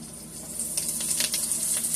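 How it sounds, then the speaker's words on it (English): Cut Brussels sprouts sizzling in a frying pan with a steady bright hiss and soft crackles, close and fairly quiet, no voices. "now I'll just go ahead and place my cut Brussels sprouts right in the pan there"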